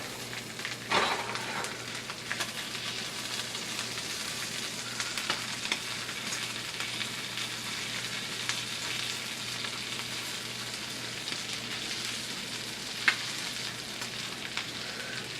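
Eggs frying in bacon grease in a pan: a steady, moderately quiet sizzle and crackle that runs without a break, with a few sharper pops and no one talking.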